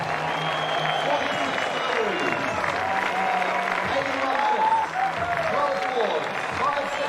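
A cricket crowd at a New Zealand versus West Indies one-day international applauds Jesse Ryder, sustained clapping and cheering from the stands beneath a commentator's voice.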